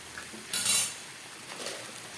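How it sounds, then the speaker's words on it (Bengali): Spice paste being stir-fried in a pan with a metal spoon gives a quiet sizzle, with one bright scrape and clink of utensil against metal near the start. "মশলা জলটা এখন শুকিয়ে ভালো করে কষিয়ে নেব"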